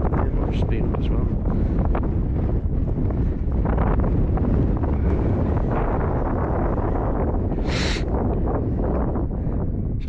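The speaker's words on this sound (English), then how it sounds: "Really wind up here, so I don't know whether you can hear me or not." Strong wind buffets the microphone on Park House Hill, an exposed hilltop, a loud continuous roar with gusts throughout, and a voice speaks faintly under it.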